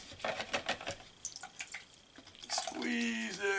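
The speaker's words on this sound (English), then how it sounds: "Then I just drop that sponge into the water," A paint sponge dropped into a water container and swished around while cleaning up from an acrylic painting session, giving soft splashy sloshing and dripping that swells near the end, with some faint background noise throughout.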